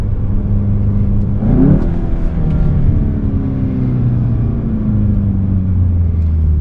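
A 2020 VW Golf GTI in sport mode gives a low, steady engine growl from inside the cabin, rising with acceleration and settling into a continuous rumble, with no talking.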